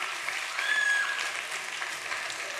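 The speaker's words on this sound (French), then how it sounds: "On l'applaudit." Audience applause at a French television hypnosis show, a fairly quiet, even patter of clapping that holds steady throughout with a faint tone in the background.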